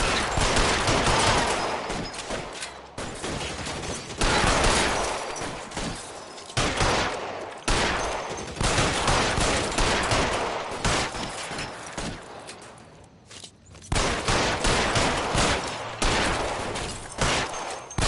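Loud, dense gunfire rattles through a shootout in L.A. Noire, with bursts of rapid shots packed together and brief lulls between volleys over nearly the whole stretch.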